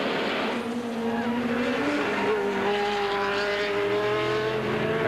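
Race cars at the 1984 IMSA Miami Grand Prix street race accelerate away, their engines rising in pitch and droning steadily and loudly as the pack pulls off, with no talk over them.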